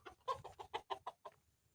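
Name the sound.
free-range country chickens clucking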